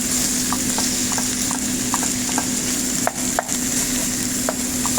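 Chicken frying in hot oil in a pan, a loud, continuous dense sizzle with a few faint stirring clicks, close up and with no talk.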